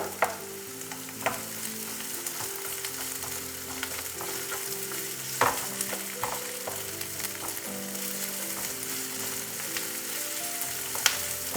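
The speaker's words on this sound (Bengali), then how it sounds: "এবার পেঁয়াজটা দিয়ে দিলাম। পেঁয়াজটা দেওয়ার পরে ভালো করে ভেজে নিতে হবে" Onions fry in a pan with a loud, continuous close sizzle, punctuated by occasional sharp clinks and stirring scrapes, with low tonal background music running underneath.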